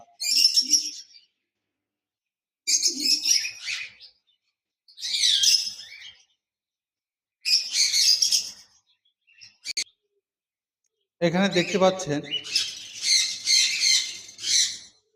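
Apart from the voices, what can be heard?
albino red-eye tame cockatiel birds calling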